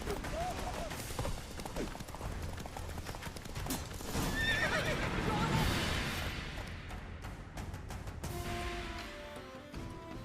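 Geralt's horse Roach in The Witcher 3 gallops with rhythmic clip-clopping hooves and gives a loud neigh, set against battle noise and swelling game music, with voices speaking briefly.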